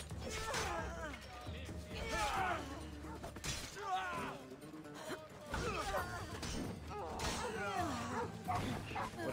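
Dog barking in the video game Assassin's Creed Odyssey, several bursts of barks and yips spread across the stretch, mixed with game noise and clashing impacts, with a voice talking over parts of it.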